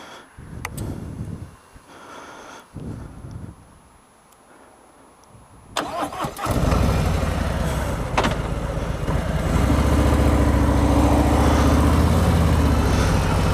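A 2018 Harley-Davidson Road Glide Ultra with a 107 engine starts up after a few quiet knocks, then rumbles loudly and steadily as it revs and pulls away, growing fuller toward the end.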